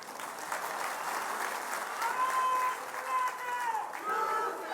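Crowd cheering and applause at a Shiv Sena political rally in Amravati, a dense sustained roar of many voices and clapping, with a few higher shouts and whistles rising above the noise throughout.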